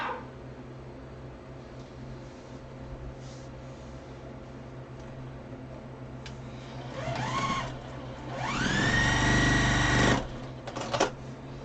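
Domestic sewing machine stitching diagonal quilt pieces onto a square, a quiet mechanical whir that rises in two bursts, the second longer and louder with a steady high hum, then stops with a few short clicks.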